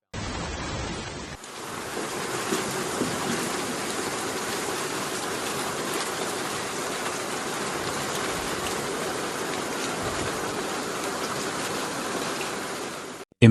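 Dense, steady floodwater roars through residential streets without pause after a dam collapse in Guangxi, China, a broad wash of noise like a fast torrent, constant and fairly loud.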